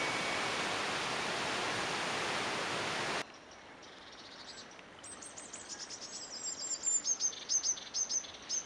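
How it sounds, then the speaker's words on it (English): Birds calling in an oak tree, a harsh hiss first, then a run of high chirps that start faint and grow closer and louder in quick repeated bursts. "you can hear some jackdaws over here as well with the more sort of cackly kind of sound"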